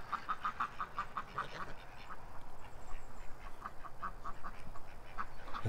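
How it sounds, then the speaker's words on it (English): Two ducks quack outdoors near a lagoon, a quick run of short quacks followed by a few scattered calls, fairly faint against a quiet background. "I'm just watching these 2 ducks too while we're looking at these little gooses"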